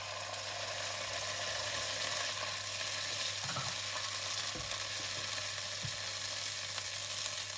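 Prawns, garlic and sambal stir-fry for char kway teow in a steady loud sizzle, with a few soft knocks of a utensil against the pan.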